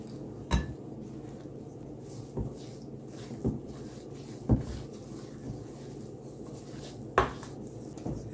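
Almond flour cookie dough is mixed in a bowl, with soft, irregular knocks of a utensil against the bowl every second or so over a quiet, muffled background.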